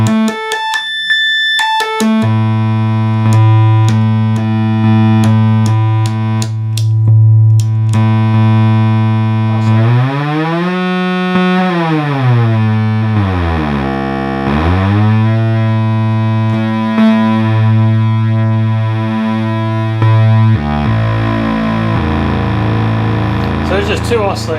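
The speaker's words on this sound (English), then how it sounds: "I'll do the octave ranges by themselves so you can hear how they work." 1972 Minimoog synthesizer oscillators stepping through their octave ranges, a loud close tone jumping between pitch registers with sweeping glides up and down, then shifting to a buzzier, beating sound near the end.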